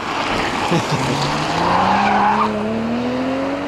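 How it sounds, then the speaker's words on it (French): A white BMW M440i xDrive coupé sweeps past with a rising, loud engine note and a burst of tyre skid as it goes by, the pitch climbing steadily while the road noise swells and lingers. "Je crois qu'il y a une 440i blanche qui revient derrière moi."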